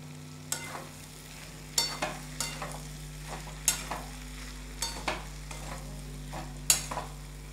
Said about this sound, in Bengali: এবার চানা, আলু আর মশলা দিয়ে খুব ভালো করে কষিয়ে নেব।